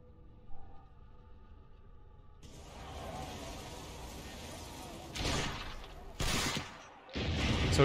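Cannons firing at an assault on Monteriggioni in Assassin's Creed: Brotherhood, a few heavy blasts landing in succession over low game ambience and clatter, moderately loud.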